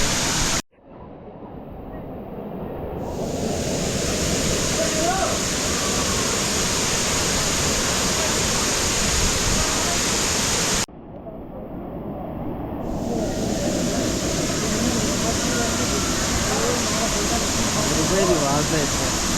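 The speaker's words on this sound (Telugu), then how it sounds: "సూపర్ ఉన్నాయి వాటర్ ఫాల్ ఇది" Waterfall at the Garden of Caves in Meghalaya, a loud, continuous roar of falling water that dips sharply twice before swelling back, with voices talking over it.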